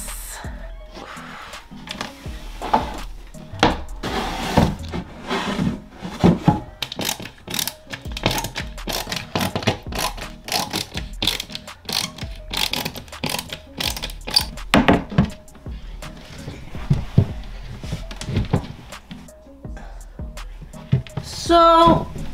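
A screwdriver assembling furniture gives repeated ratcheting clicks and creaking wooden knocks throughout, close and busy, with scattered handling noises and occasional quiet sounds from the person working.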